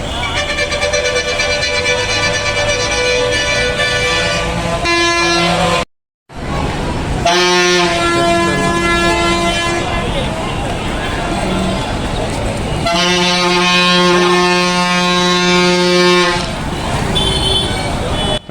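Loud, overlapping bus horns blare at a busy Tirupattur bus stand serving local village and long-distance buses, sustained tones honking repeatedly over steady traffic rumble, with a brief dropout midway.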